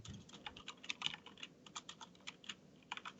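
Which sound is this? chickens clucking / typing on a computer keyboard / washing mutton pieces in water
typing on a computer keyboard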